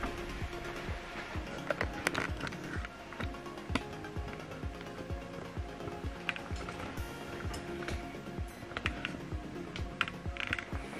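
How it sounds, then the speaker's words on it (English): Epson XP-255 all-in-one wireless printer powering up after being switched on, its internal mechanism running through a steady series of clicking, ratcheting gear and carriage movements, close and continuous for the whole stretch with no talk. "So switch this printer on."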